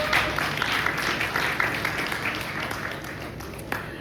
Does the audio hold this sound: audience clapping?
yes